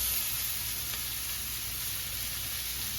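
Garlic and broccoli sizzle in a hot pan for a beef stir fry, giving a steady, close, unbroken hiss that holds at an even level throughout with no talking.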